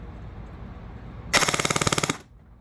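A CYMA M4 airsoft AEG rifle with a built-in MOSFET, powered by an 11.1 V LiPo, fires one short full-auto burst of about a second, a rapid, even, loud rattle at roughly eighteen rounds per second, then stops.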